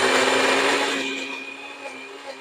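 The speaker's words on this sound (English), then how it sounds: "We're going to add our chili broth to our blender and liquefy." A blender liquefies peppers in ladlefuls of chili broth for a Polish chili, whirring loudly and steadily up close with a high motor whine, easing slightly as it runs, no talking.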